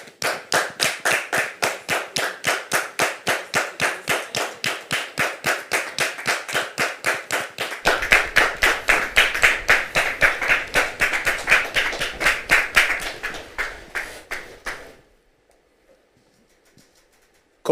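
A studio audience claps together in a steady, even beat, about three claps a second, to welcome a daughter and her husband. The clapping continues strongly for about fifteen seconds, then stops abruptly, leaving near silence.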